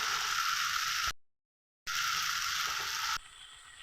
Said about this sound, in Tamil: தக்காளியை நல்லா வதக்கிடலாம்.